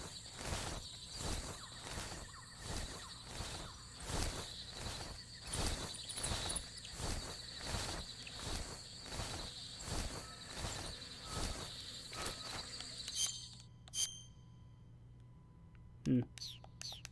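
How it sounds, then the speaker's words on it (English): Insects buzz in the jungle of the video game Metal Gear Solid 3, a faint, steady pulsing drone that stops near the end, leaving sparse clicks and other game sounds. "I hear bees."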